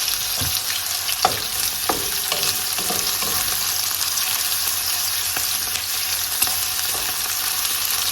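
Pork slices sizzling and browning in a pan after a quick sauté of vegetables, a steady close hiss of frying broken by occasional soft pops and stirring clinks.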